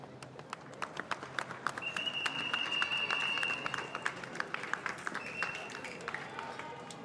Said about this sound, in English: a lot of applause for him as he comes through that 14th